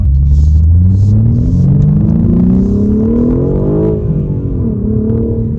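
A 2022 BMW M4 with a manual transmission pulls hard while driving, its engine and exhaust droning loud and close as the revs climb steadily, dip briefly at a gear change, then rise again.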